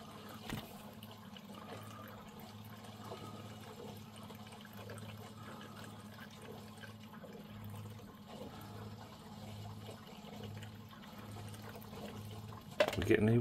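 Water running from a reverse osmosis purifier into a container, a low steady flow and hum that continues for a long stretch, with a brief louder splash or clatter right at the end.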